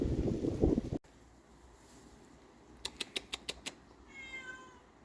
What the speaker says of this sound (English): Kitty started crying again